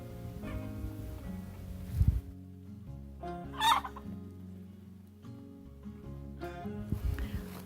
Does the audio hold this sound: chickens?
yes